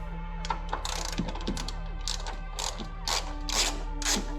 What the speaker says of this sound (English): I can make quick work of them with this 3/8 ratchet and a short extension.